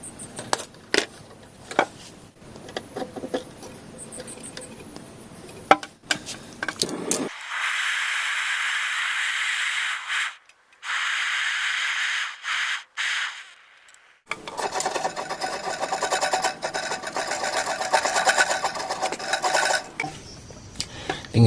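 A refrigerator capillary pipe on a Polytron fridge is cut during repair, with harsh rasping and filing strokes in irregular bursts separated by brief pauses, close and fairly loud.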